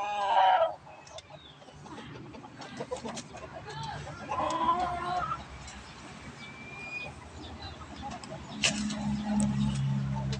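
A Boston Roundhead gamefowl rooster from a farm clucks intermittently at close range, with short calls scattered through the clip over a quiet outdoor background.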